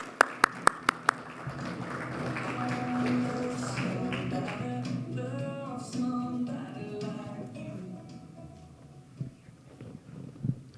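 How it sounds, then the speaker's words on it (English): An audience gives a brief round of applause for panelists joining the stage at an industrial biomanufacturing event, moderate clapping with a few sharp claps at the start, fading under a speaker's voice. "Can I have a round of applause for our panelists,"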